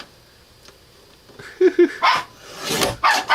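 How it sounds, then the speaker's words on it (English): Dogs barking indoors in a home sewing room, a few sharp close barks in a quick cluster followed by louder yips and a whine, with no talking. "I don't know what they're barking at."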